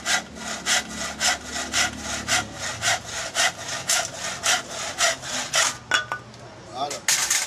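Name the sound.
saw cutting hard wood for a balafon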